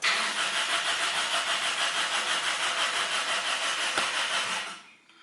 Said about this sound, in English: Only starter runs and rotates this engine.